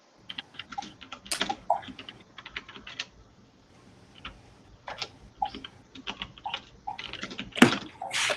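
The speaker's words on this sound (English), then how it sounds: "Somebody typing loud" Loud, rapid computer keyboard typing in irregular bursts with brief pauses, close up, a few heavier key strikes standing out.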